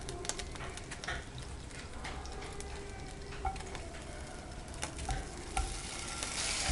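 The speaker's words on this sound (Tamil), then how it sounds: "கொஞ்சமாக எண்ணெய் விட்டு வதக்கிக்கலாம்" Chopped tomato sautés in a little oil with a faint, steady sizzle and occasional stirring scrapes, while birds coo quietly in the background.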